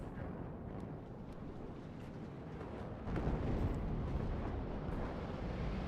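Napalm strike landing on a T-72 tank in a war strategy game, a broad rumbling roar of fire and blast that swells partway through and keeps burning steadily at moderate, distant-sounding volume.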